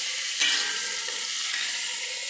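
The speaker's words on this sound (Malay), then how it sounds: "mula-mula saya tumis serai dan 4 sekawan hingga naik bau" Lemongrass and whole spices sautéing in a pan for beef rendang, a steady close sizzle and hiss with a brief louder burst as ingredients are stirred, no voices.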